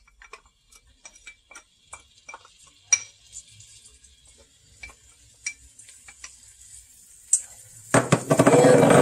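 Sparse metal clinks and taps of a utensil against a pan while onions are stirred in warm chorizo oil, quiet and close, followed by a louder sizzle that swells near the end.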